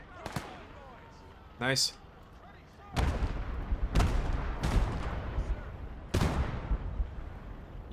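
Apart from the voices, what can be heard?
gunfire in the video game Gates of Hell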